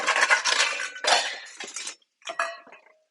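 A little metal bowl clinking and rattling as it is set out beside the stove, a few close bright metallic knocks and scrapes in quick bursts with a short pause.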